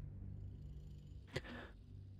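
A cat purring in the video game Baldur's Gate 3, a quiet low rumbling purr interrupted by one brief, sharper vocal sound partway through, with no talk over it.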